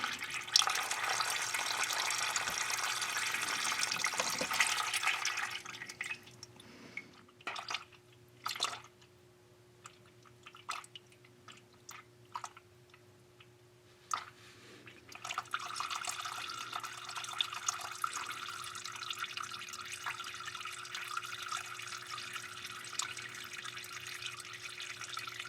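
Transmission fluid pours into a 2019 Kia Stinger in a steady liquid stream at first, then comes a stretch of scattered drips and small clicks, then a softer continuous pour starts again.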